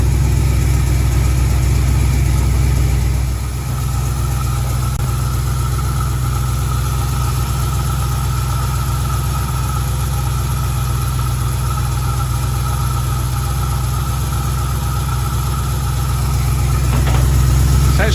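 A Chevy engine fitted with an HEI distributor idles steadily, with a loud, constant low rumble and a slight dip in revs early on, heard close up without speech.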